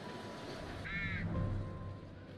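A single crow caw from The Devil in Me, a short harsh call near the middle over a low steady game ambience, no talk.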